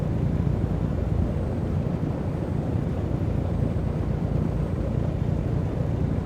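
Four-engine Lockheed Constellation piston engine starting up in the Prepar3D flight simulator, a steady loud low rumbling drone that holds constant throughout with no talking.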